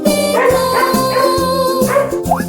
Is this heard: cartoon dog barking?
yes